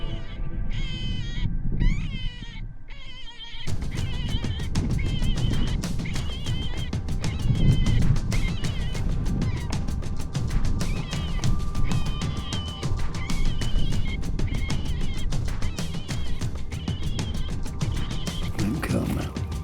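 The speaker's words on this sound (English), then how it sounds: "that's what we're saying by playing these sounds, these distressed rabbit sounds, is that we're saying we're an easy meal." A FoxPro predator caller in Colorado plays distressed rabbit cries, high wavering squeals at first, then a long run of shrill, raspy repeated calls over a constant noisy outdoor background.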